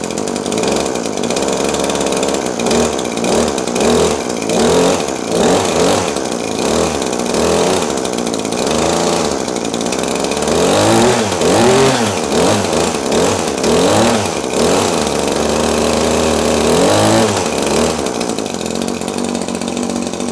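An Echo HCA 2620S hedge trimmer's small two-stroke engine, serviced for running poorly, buzzes loudly and close, rising and falling in repeated throttle blips over a steady idle with no talking.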